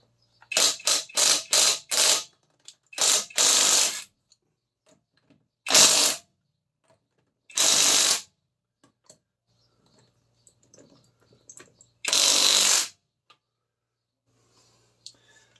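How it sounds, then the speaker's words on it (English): A ratchet works to break loose the lug nuts on a Ford Escape wheel, giving sharp bursts of rapid clicking, some quick in succession and others spaced by long quiet pauses, close up. "I need to break these lug nuts loose."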